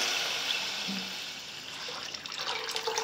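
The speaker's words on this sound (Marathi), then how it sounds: "आणि त्यावर आता आपण पाणी टाकू. जवळपास 1 तांब्या पाणी घेतलेलं आहे मी." About one tambya of water pours steadily onto a fried tempering in a cooking pot, a continuous close rushing splash that fades slightly over three seconds.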